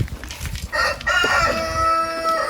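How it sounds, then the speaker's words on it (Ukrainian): A rooster crows loudly nearby on a farm, a long drawn-out call with a sustained tonal tail, after some brief clattering noises of unloading a walk-behind tractor. "О, півень співає."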